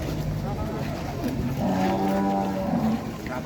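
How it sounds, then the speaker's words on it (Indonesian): A jumbo cow moos with a long, low, drawn-out call at a busy livestock market, surrounded by steady crowd noise and people talking nearby. "bawa sapi jumbo"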